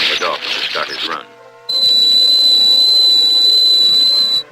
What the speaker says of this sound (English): His trainer tests an acoustic buzzer